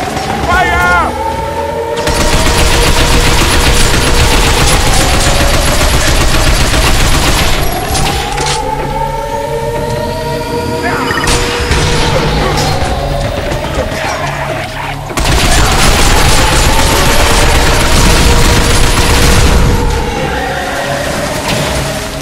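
Heavy gunfire fills a battle on the Tokyo Seawall in the video game Binary Domain: long, loud bursts of automatic fire with booming impacts, broken by brief pauses, while voices shout over the fighting.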